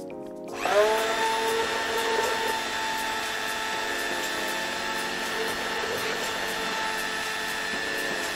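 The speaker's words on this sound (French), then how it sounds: "On va de nouveau mixer." A blender whirs steadily as it mixes the base for a strawberry cheese entremets, starting abruptly after a brief silence and holding a loud, even mechanical drone for several seconds, with no talking.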